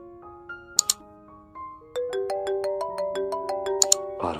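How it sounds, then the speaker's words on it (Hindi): A mobile phone ringtone plays a bright electronic melody of rising, stepped beeping notes, close and clear with a few clicks, ending as the call is cut. "सूरज का फोन कट रहा है बाबा।"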